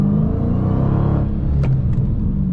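Dodge Challenger Hellcat with a manual gearbox, around 500 horsepower, its engine rumbling loudly up close as it revs, the deep growl swelling and then easing off over a couple of seconds.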